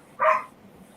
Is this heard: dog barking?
yes